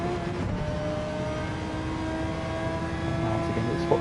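GT2 race car accelerating out of a curve at Monza in a racing game, a steady buzzing engine drone that holds and rises slightly near the end, with a commentator's voice underneath.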